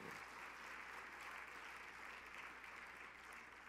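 A church congregation applauds warmly at the close of a couples' retreat service, a steady, dense clapping that fills the room evenly without letup.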